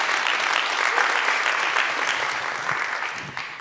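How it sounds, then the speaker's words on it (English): Audience applause at a live 50th anniversary celebration, a dense steady wash of clapping that holds loud and close for the whole stretch and fades slightly toward the end. "let's give a special round of applause for Terry Schichtel."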